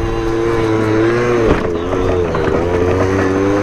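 Scooter engine revving hard during hard enduro riding as it speeds up for a jump, a loud, continuous buzzing drone that rises and dips in pitch, with no talking.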